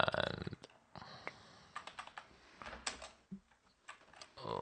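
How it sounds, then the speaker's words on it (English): Close, quiet keystrokes on a computer keyboard come in short irregular bursts with brief pauses between them. "I'm typing something wrong here."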